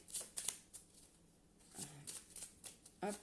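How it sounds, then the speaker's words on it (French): A small deck of handmade cards being shuffled, with soft riffling bursts and taps in short irregular clusters, quiet and close. "maintenant, je vais tirer une petite carte du jeu que j'avais fabriqué"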